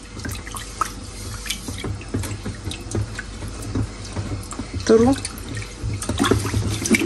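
Tap water runs steadily while a pan is rinsed clean at a kitchen sink during lamb cooking, with splashes and a brief gurgle partway through; a person speaks briefly over the flow.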